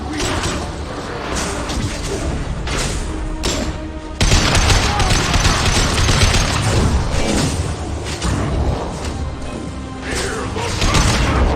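A chaotic firefight in Mass Effect 2, with overlapping bursts of weapon fire, clanking impacts and explosive crashes running continuously at steady loudness, with shouted voices mixed into the battle.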